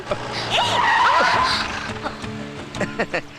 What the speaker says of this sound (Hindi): कुछ करने के लिए ही तुमने गाड़ी में ब्रेक लगाए होंगे